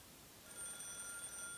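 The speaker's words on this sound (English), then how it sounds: "Oh, goddamn phone." A telephone in the Higurashi visual novel game rings faintly, a thin electronic trill coming in partway through over a soft, steady background hiss.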